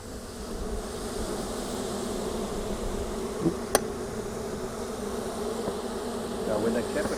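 Honeybees buzz steadily around the honeycomb of their hive, a dense, close, continuous drone with a faint tap or click partway through.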